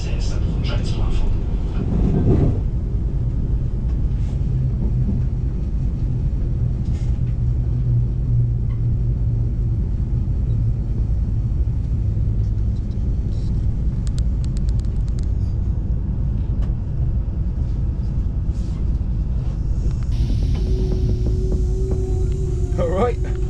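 A train rumbles steadily as it pulls into Bedford station, a deep continuous low throb filling the whole stretch, with a voice audible over it.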